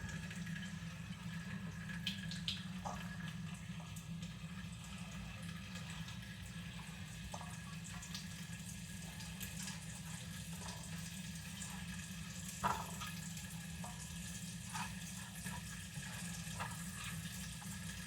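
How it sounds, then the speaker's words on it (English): Steady water running from a tap, a constant broadband rush with occasional small clatters and knocks over it. "I got that water running a little bit,"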